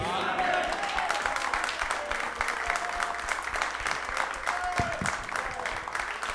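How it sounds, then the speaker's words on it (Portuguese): A church congregation claps during a sermon, producing a dense, sustained applause with sharp individual hand strikes, while a voice carries over it. "Mas está fraco essas palmas,"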